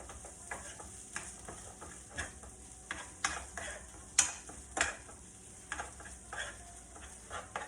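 A spoon stirring a yucca root mixture with oregano, quiet close scraping and soft knocking strokes repeating at an irregular rhythm against a faint background hiss.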